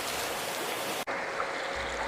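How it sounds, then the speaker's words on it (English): Liquid curing agent poured into a bucket during terrazzo floor installation, a steady close gushing splash that cuts off abruptly for an instant midway before resuming, with no voices. "Pour this curing agent into the bucket."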